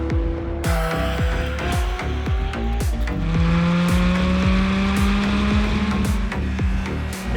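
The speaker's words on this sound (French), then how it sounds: "pour ce premier contact avec la Porsche 718 Cayman GT4 RS" A Porsche 718 Cayman GT4 RS with a 4-litre flat-six of 493 hp drives on a circuit, its engine rising through rapid gear changes as the pitch climbs and drops repeatedly, loud and continuous with no voices.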